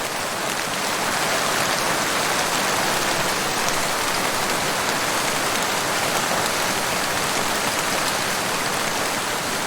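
Heavy rain from a thunderstorm pours down in a dense, continuous hiss that stays loud and even throughout, with no voices or thunder.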